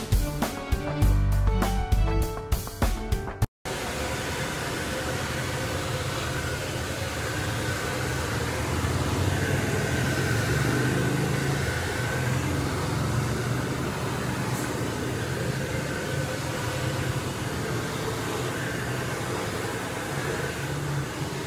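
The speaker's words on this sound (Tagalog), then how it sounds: "So yun po ang tunog ng ating blower kapag hindi po nakamute ang ating video." A pet grooming blower dryer runs steadily as a loud, continuous broadband whoosh for about eighteen seconds, after a brief burst of other noise at the start.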